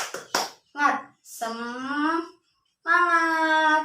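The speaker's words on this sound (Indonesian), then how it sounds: "Tepuk semangat" Children at school in a sixth-grade fiqh class clap out the short "tepuk semangat" rhythmic routine, with a few sharp close claps at the start and a voice chanting over and between them.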